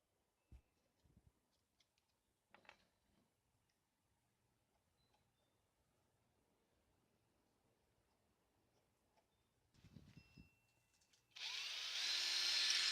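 After a few quiet knocks and taps, a power drill fitted with a 1/4 inch bit whirs up loudly near the end, biting steadily into wood to cut a channel.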